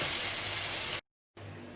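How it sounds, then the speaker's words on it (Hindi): Water gushes steadily into a pot of fried chana dal cooked with spices, a broad rushing pour that cuts off sharply, then resumes at a softer level. "और अब मैं इसके अंदर ऐड करूँगी पानी"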